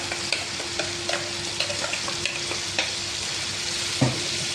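Steady sizzling of ground masala paste for duck curry frying in a pan, with a spoon scraping and stirring at intervals and a faint hum in the background.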